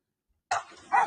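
A police dog gives two short, sharp barks during an arrest, close by after a moment of silence.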